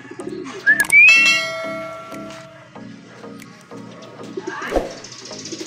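Racing pigeons from a summer training race in Pagbilao, Quezon give soft repeated coos and bird calls. Whistles and a voice calling sound over them.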